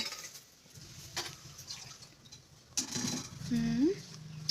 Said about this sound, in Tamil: மேடம் கிண்டுங்க நல்ல